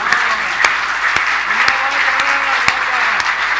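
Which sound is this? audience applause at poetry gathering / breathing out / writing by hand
audience applause at poetry gathering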